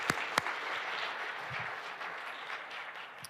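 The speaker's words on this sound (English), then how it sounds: "Please join me in giving Costa a round of applause" Audience applause after a keynote talk at a climate policy event: a dense, steady wash of many hands clapping at even loudness throughout, with a couple of sharper nearby claps near the start.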